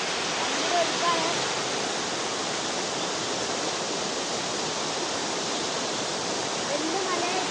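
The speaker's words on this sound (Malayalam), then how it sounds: "ഇവിടുന്ന് ഈ വെള്ളം അവിടുന്ന് ഇവിടുന്നും ഒഴുകി പോകുന്നത് മലയിൽ തട്ടിങ്ങനെ ഒഴുകി പോകുന്നത് നിങ്ങൾക്ക് ഇവിടെ കാണാം. ഭയങ്കര ഒഴുക്കാണ്." The Iruvanjippuzha river rushes fast against a hill and swings aside, a loud, unbroken roar of churning water close by.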